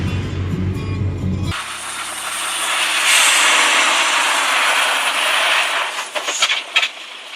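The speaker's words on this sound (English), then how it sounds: "Here comes a stunning Mercedes truck, climbing that hill with ease and style. The engine hums" Heavy Mercedes truck engine laboring up a hill, a broad sustained roar building and holding loud for several seconds before thinning out, with brief sharp knocks near the end and no voices.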